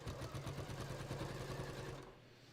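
A sewing machine stitches a beach tote, running at a steady rapid mechanical whir with a fast regular pulse, close and continuous before stopping abruptly near the end.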